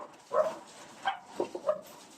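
A few faint dog barks and yips come from a distance, scattered in quick succession with short pauses between them.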